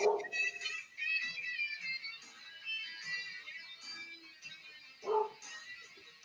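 A dog barks in a few sharp bursts, with the loudest ones at the start and again near the five-second mark. Soft household noise fills the gaps between them, and no one speaks.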